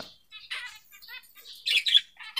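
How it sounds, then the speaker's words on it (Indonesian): Zebra finch chicks being hand-fed, giving rapid, high, squeaky begging calls in short bursts close by, louder toward the end. "burungnya masih lahap sekali ini saya ngelolohnya secara pelan-pelan aja teman-teman ya karena baru pertama kali ini saya meloloh anakan zebrafin"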